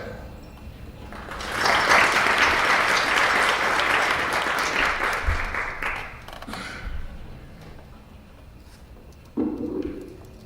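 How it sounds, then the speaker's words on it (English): An audience at an academic panel on global ethics applauds a speaker, with full, even clapping swelling for roughly five seconds before fading, then a few faint stray sounds. "Please join me in applause for Dr. Schweiker, our first panel."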